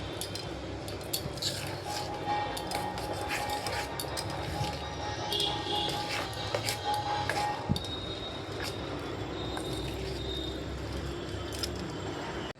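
Chopped chilli, onion and ginger with a little sugar get stirred together in a bowl for a rice-paste taro-leaf pakora batter, with steady scraping and light clinks of a spoon against the bowl for several seconds.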